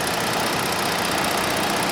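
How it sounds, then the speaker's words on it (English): A 2018 Ford Explorer Police Interceptor engine runs at a steady idle, heard up close as a continuous broadband rumble with no voices over it. "Alright, folks, here's the engine."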